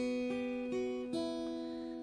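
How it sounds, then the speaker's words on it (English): Acoustic guitar plays the opening figure of a Celtic tune: a short run of sustained plucked notes, each attack clear and ringing into the next, heard alone and close with no voices. "The first figure sounds like this."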